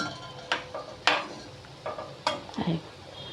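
Gulab jamun dough balls frying in oil, with soft sizzling under sharp clinks and scrapes of a stirring utensil against the pan at irregular intervals, fairly close.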